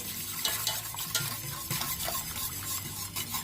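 A sweet and sour chicken stir-fry stirred after sauce goes in, with continuous frying sizzle and repeated close scraping and clinking of a utensil against the pan, with no voices.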